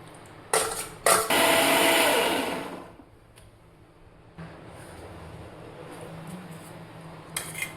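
Mixer grinder whirring loudly in a short burst after a couple of clicks, grinding green moong for dosa batter, then winding down to a low background hum with a few light clinks.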